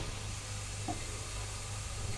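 Sweet grated-carrot pitha mixture fries in a pan with a low, even sizzle and soft stirring scrapes, fairly quiet and close, with a steady hum underneath.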